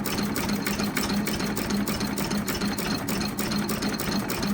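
Restored Ruston Hornsby AP 5.5HP stationary engine running nearby, a loud continuous rhythmic chugging with regular knocking beats over a steady low hum and no voices.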